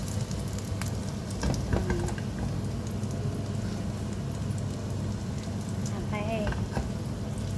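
An eggplant omelette fries in a pan with a steady, even sizzle that carries throughout, joined by occasional light scraping and clinks and a brief spoken word.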